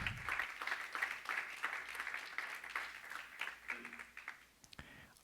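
A church congregation claps for the Lord during a sermon, a quiet, fairly even patter of many hands, distant and soft, tapering off near the end.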